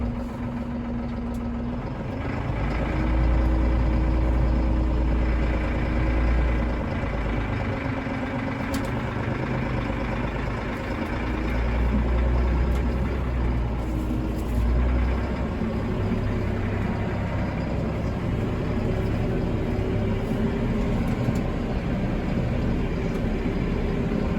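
A Massey Ferguson 4707 tractor idles with a steady, deep diesel rumble that swells slightly now and then. It runs on its own with no talk.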